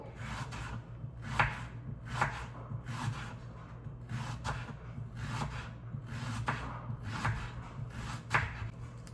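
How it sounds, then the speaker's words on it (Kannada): A knife slices an onion lengthwise on a board, with about a dozen rhythmic, evenly spaced cuts, each a soft close chop with a brief scrape, no talking over them. "ನಾನಿವಾಗ ಈರುಳ್ಳಿನ ಕಟ್ ಮಾಡ್ಕೊಳ್ತಾ ಇದ್ದೀನಿ. ಉದ್ದುದ್ದವಾಗಿ ಕಟ್ ಮಾಡ್ಕೋಬೇಕು."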